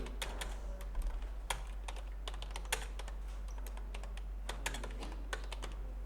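Keys clatter on a computer keyboard as a search query is typed in quick irregular clicks, close and fairly quiet over a steady low mains hum.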